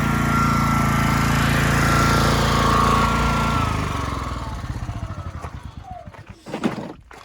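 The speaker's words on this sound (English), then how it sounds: "We're gonna walk over and turn this generator off because I'm done using it." A Wen 8000-watt portable generator runs at a loud steady drone, then is switched off and sputters down to a stop over a few seconds, followed by faint clicks and handling noises.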